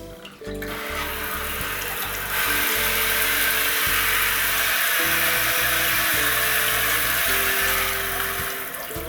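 A toilet bidet attachment sprays water hard and steady, a loud continuous hiss that strengthens partway through and holds, with a low mechanical rumble and hollow splashing against the porcelain bowl.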